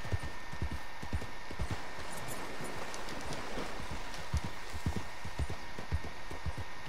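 Horse hooves clip-clop steadily at a walking pace in Red Dead Redemption 2, a regular close rhythm over a soft constant hiss like rain or running water, no talking.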